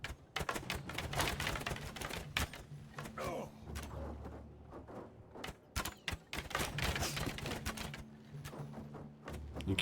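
Arrows thudding into shields during a large Bannerlord battle between Nord armies, heard as rapid, irregular sharp clacks and knocks in dense clusters over a steady rumble of battle noise, with faint voices underneath.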